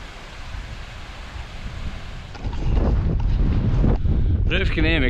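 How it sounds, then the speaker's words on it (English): Strong gale-force wind blasting across a hilltop roars steadily into the microphone. Near the end the buffeting grows heavier and a voice speaks briefly under it. "it's blowing a right gale up here"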